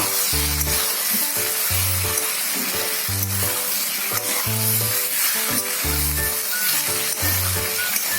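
Continuous sizzling from a hot pan of brinjal and potato with coriander powder and salt runs throughout, with stirring scrapes, while a rhythmic low droning pattern repeats steadily underneath.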